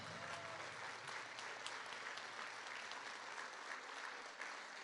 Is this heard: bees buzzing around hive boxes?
no